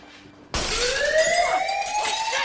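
A museum alarm in a film starts abruptly and wails loudly and steadily, rising in pitch like a siren, with faint background before it and no talk.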